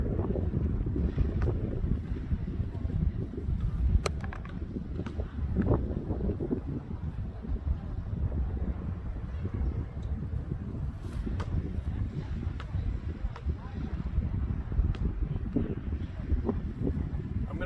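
Strong outdoor wind buffeting the microphone during disc golf forehand throws, a continuous loud rumbling roar with gusty swells throughout.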